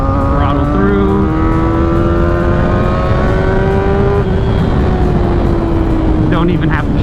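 A 600cc sport motorcycle engine pulls hard in third gear on a twisty road, a loud close rising whine that climbs steadily in pitch, with rushing wind noise throughout.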